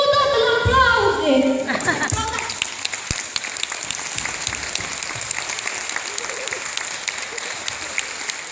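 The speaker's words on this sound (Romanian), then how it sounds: "Dar ridicați-vă odată la aplauze!" An audience breaks into applause at the close of a Romanian comic stage play, after a short stretch of loud talk and laughter. Steady crowd clapping then carries on at moderate loudness to the end.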